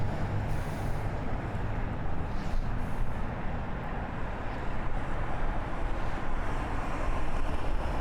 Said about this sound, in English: it is insanely windy going this way